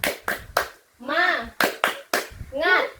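Children in a primary classroom clap a rhythmic chant, sharp hand claps alternating with chanted words shouted together, loud and close.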